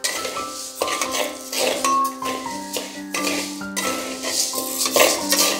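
Horse gram is stirred and dry-roasted in a pan for a village-style dal, with repeated scraping and clinking of the spoon against the pan over steady background tones.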